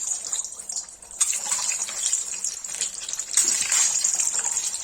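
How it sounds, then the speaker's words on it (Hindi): Eggs go into hot oil in a pan, and a steady, close sizzle swells sharply twice as they hit the oil, then keeps hissing. "तेल गरम हो गया है। इसमें अंडा डाल देंगे।"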